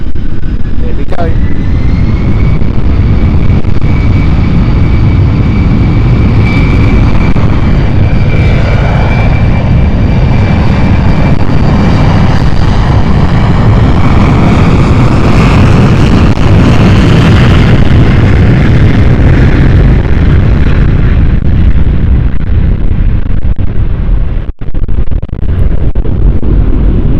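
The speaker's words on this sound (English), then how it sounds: "Takes off and lifts off." A passenger airliner at London City Airport spools up and rolls for takeoff, its loud jet roar swelling and holding before easing off as it climbs away, with a whining tone riding over the rumble.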